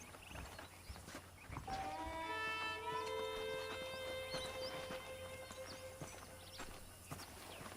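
Horse hooves clip-clop at a walking pace in Red Dead Redemption, soft and fairly close, with a horse's long whinny rising partway through.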